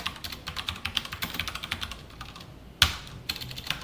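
Rapid, close clicking of a computer keyboard as Java code is typed, a steady patter of keystrokes with a louder tap partway through, no speech.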